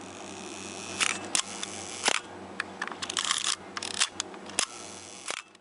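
A Mamiya DTL film SLR, freshly oiled after sluggish slow speeds, fires its shutter repeatedly: sharp mechanical clacks and whirring escapement buzzes in irregular bursts, close and crisp in a quiet room.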